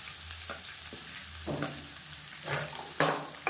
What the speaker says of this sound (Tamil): இப்போ இது எல்லாத்தையுமே நல்லா வதக்கி விட்டுக்கலாம்.